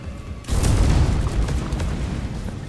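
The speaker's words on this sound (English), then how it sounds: "Oops, wasted a grenade. Get out of dodge, it's gonna explode." A grenade explodes in the Deep Rock Galactic video game, a sudden loud boom after a quiet moment, followed by a rumbling, crackling tail that fades slowly over the next two seconds.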